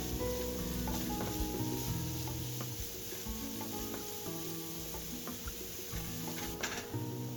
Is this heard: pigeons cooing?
no